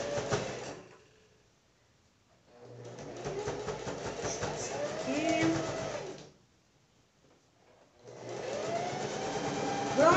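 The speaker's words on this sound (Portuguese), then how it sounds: "vamos fazer a costura. A máquina doméstica, ela fica reclamando um pouquinho nessa hora, que fica um pouco grosso." A domestic sewing machine runs in two long bursts while stitching a thick seam on a flap, with a pause between them, its motor labouring and sounding close and steady.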